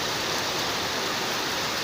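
Heavy rain pours down steadily during a storm in Lahore, a dense, even hiss of water falling close by with no pauses or voices.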